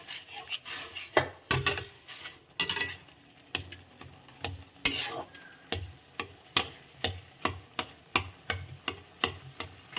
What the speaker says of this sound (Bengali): ভালো করে এটাকে নেড়ে নেব।